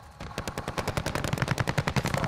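Rapid automatic gunfire from the video game Call of Duty Warzone, a sustained burst of closely spaced shots that grows louder and denser, heard alone with no talking.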